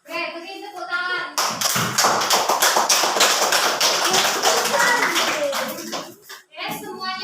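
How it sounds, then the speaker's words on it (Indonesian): Children clap their hands together in a classroom, a close burst of rapid, uneven claps lasting several seconds after a teacher's call, with young voices talking briefly before and after. "beri tepuk tangan"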